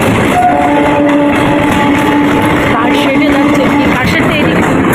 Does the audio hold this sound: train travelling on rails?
yes